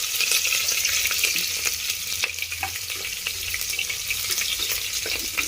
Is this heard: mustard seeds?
yes